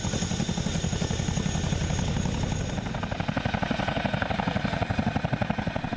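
Boeing CH-47 Chinook tandem-rotor helicopter heard alone, a steady loud rhythmic thumping of rotor blades with a continuous engine roar throughout.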